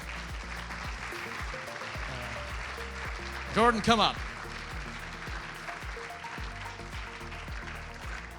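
An audience at the Silicon Oasis Summit applauds, a steady crackling wash of clapping that goes on throughout while a presenter talks over it on the microphone.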